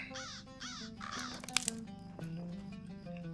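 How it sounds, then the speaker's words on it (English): Crows caw repeatedly in the video game Lord of the Rings Online, with several harsh calls close together at first and then quieter, over a steady bed of game ambience. "And kill some more crows."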